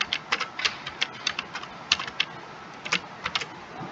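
Close, crisp computer keyboard typing at an even pace, code being entered for a soil moisture sensor project in Tinkercad, with clear individual keystrokes and brief gaps.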